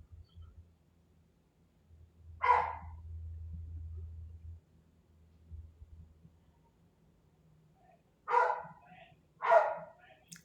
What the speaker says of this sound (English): That's not the puppy barking that loud.